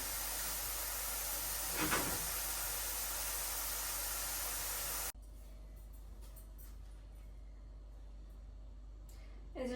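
Small fish with cumin, salt and turmeric frying crisp in a pan with potato, brinjal and drumstick, giving a loud steady sizzling hiss that suddenly drops to a much quieter crackle partway through.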